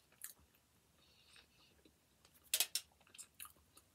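Someone chews Domino's veggie cheese pizza up close, with a few sharp crunchy bites and soft wet chewing in scattered bursts against a quiet background.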